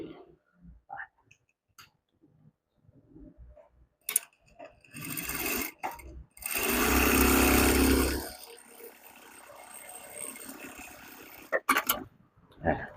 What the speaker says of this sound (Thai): เดี๋ยวผมเย็บสองหน้าให้ดูนะครับ